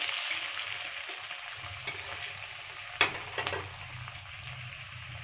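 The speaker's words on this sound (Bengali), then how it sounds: "গোটা গরম মশলা, শুকনো লঙ্কা আর সার জিরে দিয়ে দিলাম, দিয়ে ছেড়ে দিলাম পেঁয়াজ, ক্যাপসিকাম আর টমেটো।" Onion, capsicum and tomato sizzle in hot oil with whole garam masala, dried red chillies and cumin for chilli chicken, a soft continuous frying hiss broken by a few sharp stirring clinks.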